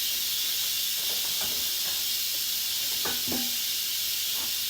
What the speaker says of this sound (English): And that releases the steam.